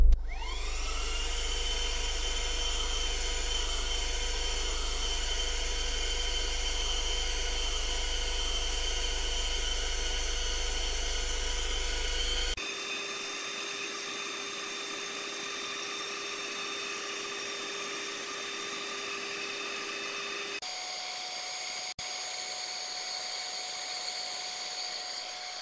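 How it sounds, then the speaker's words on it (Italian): A Lidl Silvercrest 12V mini car vacuum cleaner fitted with a bristle brush attachment whines steadily at close range, its motor pitch shifting abruptly twice as the airflow or load changes. "è un aspirapolvere, quindi la polvere l'ha aspirata"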